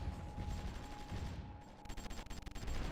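Infantry gunfire in the strategy game Supreme Ruler Ultimate, faint crackling volleys of distant rifle and machine-gun fire, building into a rapid rattle of shots in the last second.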